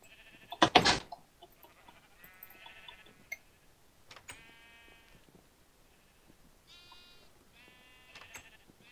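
Minecraft sheep bleat several times in short wavering calls, some overlapping, scattered among sharp clicks and a loud burst near the start, with no talking.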